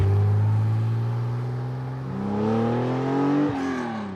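A classic sports car engine, an old Porsche 911 type, revs steadily, its pitch climbing and then dropping sharply as it shifts gear, loud and close with no talking.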